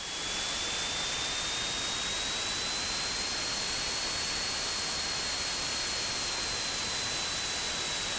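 Small airplane engine held at 1800 rpm during a pre-flight run-up: a steady, loud, broadband roar with a faint constant whine, unbroken for several seconds and heard alone.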